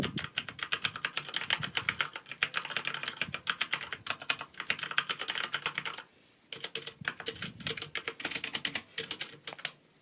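Rapid, steady typing on a Corsair K70 LUX RGB mechanical keyboard with Cherry MX Brown switches, crisp clicky keystrokes, close and fairly loud, with a brief pause near the middle before typing resumes.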